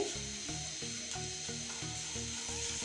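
Semolina frying in ghee, a continuous close bright sizzle with faint rhythmic scraping as it is stirred. No voices are heard.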